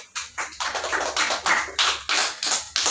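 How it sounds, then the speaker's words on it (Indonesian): Rhythmic clapping in a primary school religion class, about a dozen loud, close patterned bursts in quick succession, with no talk over them. "Oke, tepuk tangan"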